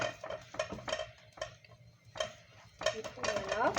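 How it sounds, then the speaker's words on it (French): A spoon stirs a mixture in a bowl, making repeated clinking and scraping strokes in an uneven rhythm, close and fairly quiet. "Et là ma maman va mélanger."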